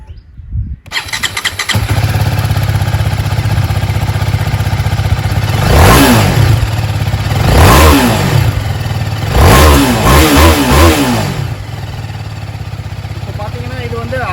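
A TVS Apache RR310 motorcycle engine starts up and settles into a loud, close idle, then is blipped through three strong revs a couple of seconds apart before dropping back to idle.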